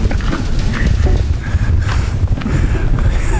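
Strong wind gusts buffet the microphone outdoors, producing loud, low rumbling thumps and rustling bursts that come in uneven waves.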